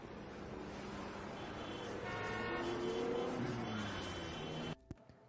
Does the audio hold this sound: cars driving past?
yes